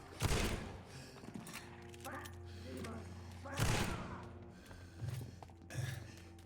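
Gunshots in the video game Vampyr, two or three heavy booming shots a few seconds apart with dull thuds in between, loud and close.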